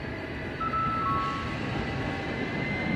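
Model railway train on a home layout passing with a steady mechanical rumble, a brief whistle-like tone rising over it midway, close and continuous throughout.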